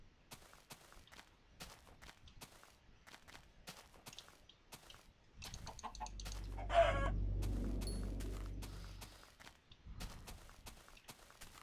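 Chickens clucking in the Minecraft video game, a short burst of game fowl sounds rising in the middle of the clip over quiet clicking and footstep-like taps, fairly faint overall.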